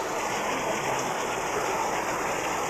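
Heavy rain pours down in a dense, unbroken hiss, loud and close, with no pauses or other sounds standing out.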